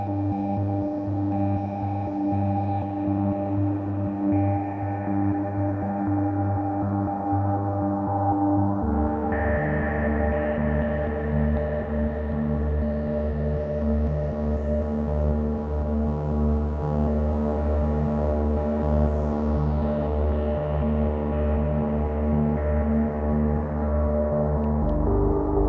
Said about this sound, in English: Or we can make it sound cavernous by adding a lot of reverb.